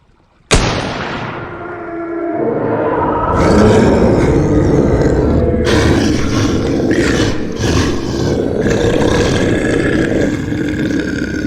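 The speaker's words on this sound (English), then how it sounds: "A horrific, pained roar escaped from its mangled mouth" A sudden loud blast opens into a beast's long, harsh, pained roar that swells and churns for several seconds, loud and close.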